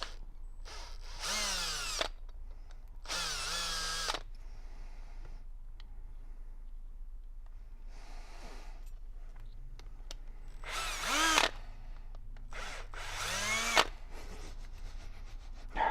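A power drill whirs loudly in several short bursts, each spinning up and winding down, with quieter stretches of background noise between them.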